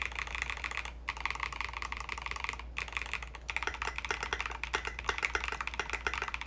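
Steady, fast typing on a Smurve80 mechanical keyboard kit with ABS keycaps, keys clacking close to the microphone in a continuous stream with a couple of brief pauses.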